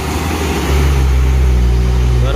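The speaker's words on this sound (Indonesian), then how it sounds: "Di bawah ada dump truck, yang di belakangnya itu truk tronton" A loaded dump truck and a heavy tronton truck carrying lightweight concrete blocks climb a steep hill, their deep engines droning loudly and swelling into a heavier, sustained rumble partway through, with a voice speaking over them.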